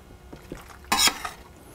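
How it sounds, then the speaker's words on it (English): A ladle scrapes and spreads pasta sauce over the bottom of a baking dish, with a few soft taps and then one louder wet scrape, close by and without voices. "I want to put a good ladle full of my sauce on the bottom of this dish"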